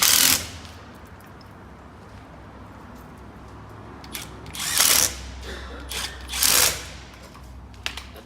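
Brake cable being tightened on a Ready Brute Elite A-frame tow bar, several short close mechanical ratcheting bursts separated by quiet pauses.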